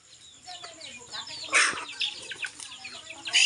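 Chickens cluck and chirp in short bursts close by, with a couple of louder squawks standing out over a busy, continuous flock.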